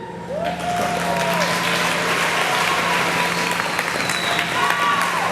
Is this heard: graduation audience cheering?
yes